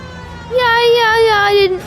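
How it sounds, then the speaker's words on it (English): A police siren in the video game L.A. Noire gives one steady, loud, slightly wavering wail for about a second before cutting off, with faint background noise around it. "Siren."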